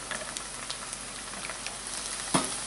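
Steady crackling sizzle of chicken frying in a pan on heat set too high, with small pops and a louder burst of spitting near the end.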